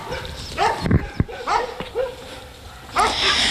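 Several dogs at an animal shelter bark and yelp in short bursts, with a few whimpering whines between them, fairly close and lively against a busy background.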